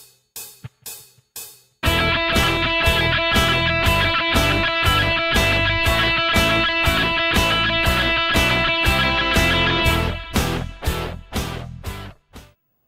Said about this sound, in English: quaver triplets or eighth note triplets as they're known